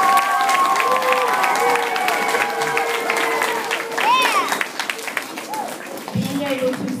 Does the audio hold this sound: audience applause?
yes